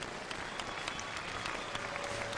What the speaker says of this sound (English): how about a round of applause for these 2 combatants right here